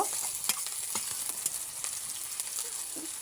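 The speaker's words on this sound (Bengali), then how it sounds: "কিছুক্ষণ পরেই এটাকে আমি উঠিয়ে নেব আর একটু ভেজে নিচ্ছি" Onions and garlic frying in hot oil until golden brown, a steady dense sizzle with small crackling pops throughout, close and moderately loud, no voices.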